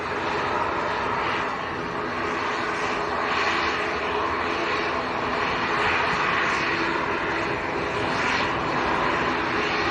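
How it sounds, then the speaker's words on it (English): An ATR turboprop aircraft at Manchester airport runs loud and steady, a thick continuous propeller and engine drone with slight pulsing swells, nearby and without talk. "Probably hear the noisy ATR which is next to go."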